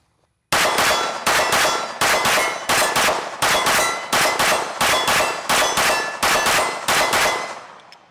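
A Springfield Armory DS Prodigy Comp AOS pistol, a 2011-style handgun, fires about eleven loud, close shots in a steady rapid cadence, each sharp crack ringing briefly before the next, with a fading tail after the last round.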